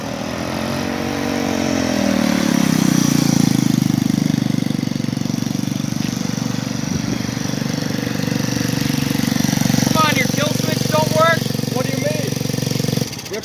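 A Roketa Rocket mini ATV engine running, a loud, close, buzzing small-engine drone that holds a steady throttle throughout before cutting off sharply at the end, with voices talking over it.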